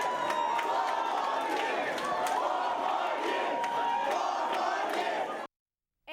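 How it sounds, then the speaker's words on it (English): Large crowd cheering and shouting at an election night party as a presidential re-election is called, loud and sustained with whoops and scattered clapping, then cutting off abruptly near the end. "the crowd cheered"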